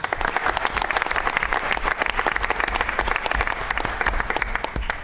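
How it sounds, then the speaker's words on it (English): Sustained applause from a crowd at a school board meeting, dense and steady clapping throughout at moderate volume. "Let's give them a round of applause."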